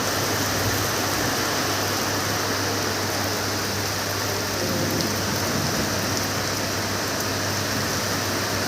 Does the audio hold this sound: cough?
no